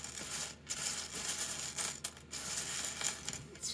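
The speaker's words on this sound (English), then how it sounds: "the sound of rustling bricks is one of my favorite sounds ever" Plastic toy building bricks rustle and clatter together in a quiet, close, continuous jumble, with small clicks and a couple of brief pauses, no talk.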